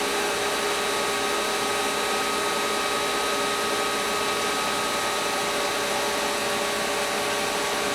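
A Dadson DS1342-KM CNC knee-type gun drill runs and feeds into its workpiece, giving off a steady, loud broadband whir with no breaks and no speech.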